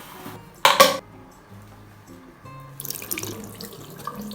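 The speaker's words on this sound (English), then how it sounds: "I start by washing my face with black soap" Water running from a sink tap during face washing with black soap, a steady splashing stream that swells loudly near the end, with a brief clink of dishes or cutlery early on.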